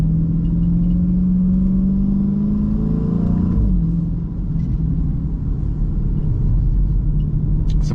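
A Chrysler 300 SRT cruising on the road, its engine and exhaust giving a loud, steady deep drone with a rising then dipping pitch as revs shift, heard from inside the car without talk.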